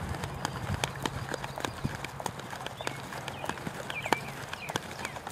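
Horse hooves clip-clop in a steady cantering rhythm during a western dressage lesson in an arena, moderately close, with faint background noise and no clear talk.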